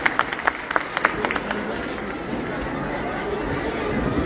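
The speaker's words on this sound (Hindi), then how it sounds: "एक बार आप लोग जोरदार तालियां बजा सकते हैं भाई साहब के स्वागत के लिए।" Loud, dense applause from a crowd at a Hindu gathering as a guest is welcomed, opening with sharp, distinct claps and then swelling into a continuous roar of clapping and crowd noise.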